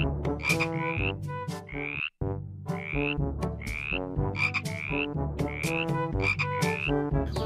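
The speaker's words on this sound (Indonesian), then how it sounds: "Wah, rupanya ini katak teman-teman." A green toy frog gives off a loud, steady run of repeated croaks that sound like an electronic recording. The croaks continue almost without a break, with one brief dropout partway through and no talking.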